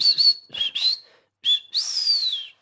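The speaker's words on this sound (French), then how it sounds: "Le petit sifflet" A small high-pitched whistle sounds in several short tweets, then a pause and a longer sliding toot, clear and close with no talking.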